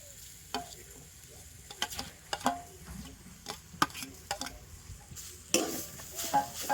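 Boiled potato, beet and carrot are mixed in a pan with a soft sizzle, irregular scraping and knocking strokes of a spoon against the pan coming close and fairly quiet.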